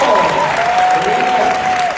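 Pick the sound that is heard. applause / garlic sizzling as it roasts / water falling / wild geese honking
applause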